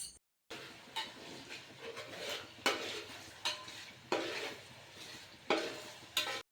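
Small shallots and curry leaves being sautéed in a pan for fish pickle, with a steady sizzle and a series of sharp scraping stirs of a spoon against the pan, repeated at irregular intervals.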